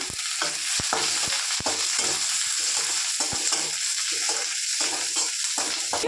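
Continuous loud sizzle of chopped onions frying in hot oil, with occasional soft taps and stirring under the hiss; nobody speaks.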